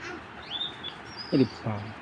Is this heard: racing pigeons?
yes